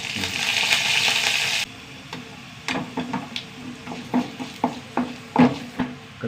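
Urad dal, dried red chilies and curry leaves hit hot oil for a tempering, starting with a loud burst of sizzling that drops away into quieter crackles and repeated clinks of stirring in the pan.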